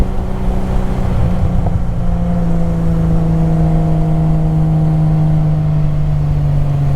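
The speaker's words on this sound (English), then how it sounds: "I love the sound of that performance exhaust system" A 1974 Triumph TR6 fitted with an upgraded performance exhaust runs at a steady, loud drone, its engine note climbing slightly and holding throughout, with no talking.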